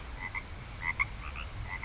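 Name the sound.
frogs croaking and crickets at night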